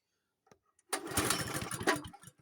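A cold Honda snowblower engine cranks over and starts at about one second, then runs loudly with an uneven, surging roar that rises and dips for a moment, following a few faint clicks beforehand.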